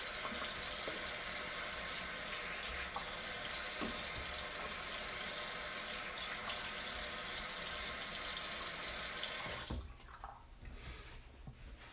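A tap runs steadily while someone washes up at a sink, a constant rushing flow of water that cuts off near the end, leaving faint drips and small clatters.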